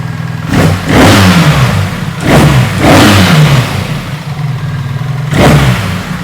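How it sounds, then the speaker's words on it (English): A 2024 BMW R 1300 motorcycle fitted with a BT Moto Flash and velocity stacks revs hard three times, each loud blip rising and falling back to a steady idle, close by with no talking. "let's hear how she sounds with the BT Moto Flash"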